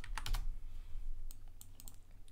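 Close, crisp clicks of typing on a computer keyboard come in quick bunched bursts over a low steady hum, with no voices.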